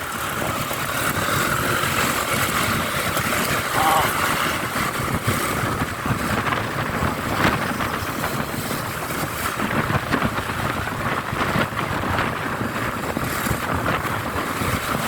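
Steady wind blusters across the microphone with a broad rushing roar beside EDSA, continuous and fairly loud throughout, with no voices present.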